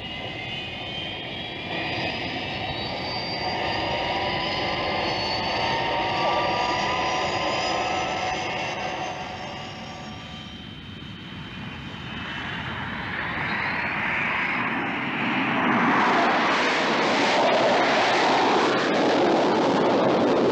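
A fixed-wing aircraft flies after takeoff, its steady engine roar with whining tones sustained throughout and swelling into a louder, broader rush near the end, with no talk over it.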